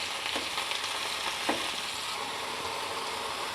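Ridge gourd pieces with turmeric frying in a pan, a steady close hiss of oil broken by a couple of brief spatula taps, with no speech.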